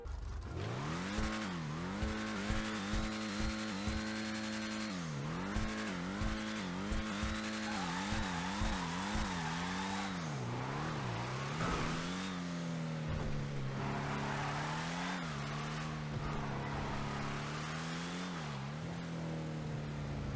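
In the video game GTA Online, a Karin Hotring Everon truck engine revs up and down repeatedly, its pitch rising and falling through long sweeps, with occasional tire squeals and no talking.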